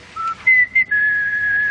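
Someone whistles a brief fragment of Keane's "Somewhere Only We Know": a few quick rising notes, then one long held tone, close and soft against near silence.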